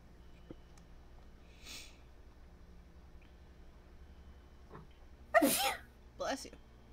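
A single sharp sneeze bursts out near the end of a quiet room recording, preceded by faint breathy sounds and followed by a shorter second burst, with soft voices nearby.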